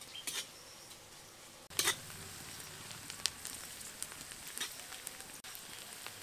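Onions frying in a pan for chicken khichuri, a steady close sizzle with crackly bursts, running on without talk.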